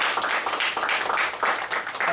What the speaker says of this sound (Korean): 다 같이 박수 한번 쳐주실래요?